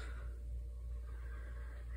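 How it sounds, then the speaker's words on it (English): Construction work right next door, a steady low rumbling drone that runs continuously and fairly loud, with no distinct impacts and no speech. "I apologize for the construction noise that's happening right next to me."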